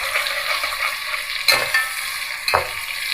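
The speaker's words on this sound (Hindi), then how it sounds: "प्याज हमें थोड़े से लाइट से गोल्डन कर लेते हैं।" Onions fry in oil in a pot for mutton pulao, making a steady close sizzle. Two sharper scraping stirs cut in partway through, and no one speaks.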